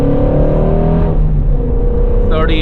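Shelby GT350 Mustang engine revving and accelerating around 3,800 RPM, a loud, close, rising mechanical roar that holds steady, with a higher whine near the end.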